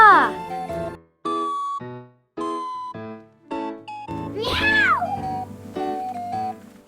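A cat meows several times, up close, with a long rising-falling yowl in the middle, interspersed with short tonal calls and a faint jingle.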